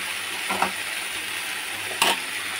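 Fish cooks in hot oil in a pan, giving a soft, continuous sizzle broken by two brief scraping stirs, with no voices.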